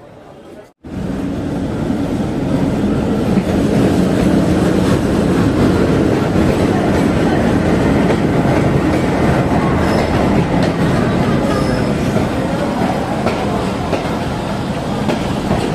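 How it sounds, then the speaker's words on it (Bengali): Tungipara Express intercity train pulling into a Bangladeshi station, a loud, close, continuous roar of rolling wagons and rattling wheels that starts abruptly and holds steady for the whole stretch. "চলে আসলো টুঙ্গিপাড়া এক্সপ্রেস"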